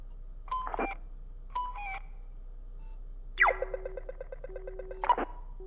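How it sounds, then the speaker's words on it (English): Electronic alarm tones in the video game Graveyard Shift at Freddy's: a few short beeping bursts, then a longer steady pulsing tone with rapid repeated pips, fairly clear over a quiet background. "I didn't mean to play the alarm"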